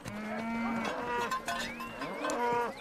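Maasai cattle low in long, drawn-out moos that rise and fall, several calls overlapping at moderate distance in an open outdoor setting.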